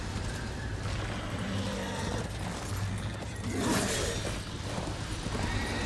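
A horse in the Darksiders video game neighs and whinnies loudly amid clip-clopping hooves and busy game effects, the whinny standing out clearly midway through.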